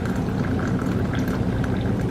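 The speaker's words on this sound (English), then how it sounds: "But I just pour it in there." French press coffee poured into a cup, a short continuous liquid stream splashing and gurgling up close, with no talking.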